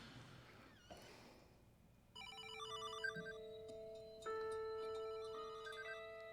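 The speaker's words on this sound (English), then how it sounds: "the phone's coming from in here" An electronic telephone rings in the video game Desolatium, its tones beginning after a short stretch of quieter ambience and repeating, then joined by a second, louder ringing pattern, with no talk.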